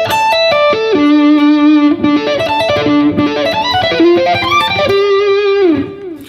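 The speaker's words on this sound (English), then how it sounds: "Let's do a little bit of a sweeping slash arpeggio lesson here." Electric guitar with distortion playing sweep-picked add9 arpeggios: rapid cascading runs of notes rising and falling in repeated phrases, loud and close, ending on a sustained note that fades, with no talk.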